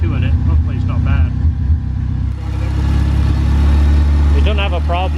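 A Honda Civic EG engine, newly fitted with an intercooler and a fresh O2 sensor, runs at a steady idle with a low, even hum, while people talk loudly over it nearby.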